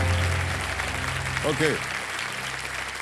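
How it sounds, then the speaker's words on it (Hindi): A studio audience on the KBC quiz show applauds to welcome a guest, giving a loud, sustained wash of clapping from many hands, with a brief spoken word partway through. "इनका तालियों के साथ स्वागत हो जाए।"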